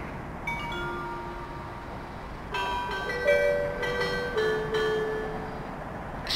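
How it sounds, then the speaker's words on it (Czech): A train departs Ostrava Svinov station: a low rumble of rolling stock carries sustained metallic tonal squeals and whines that swell midway and hold steady to the end. "Prosím, ukončete nástup, vlak je připraven k odjezdu."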